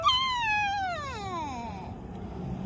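A cat gives one long, loud meow that slides downward in pitch, heard close up outdoors in a vegetable garden during a harvest, with faint background noise and no talking.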